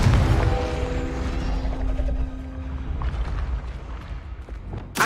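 A Confringo spell fired in a video game, heard as a loud, sustained low rumbling blast that fills the clip, fading slightly before a sharp burst at the end.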